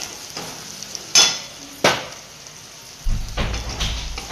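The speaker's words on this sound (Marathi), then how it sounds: "असा कांदा लाल होत आलाय, तरी आणखी 2-3 मिनिटं लागणार आहेत त्याला।" Onion frying in a pan for dhaba-style whole masoor dal, a soft steady sizzle with a few sharp stirring knocks against the pan and a louder frying burst toward the end, no talk.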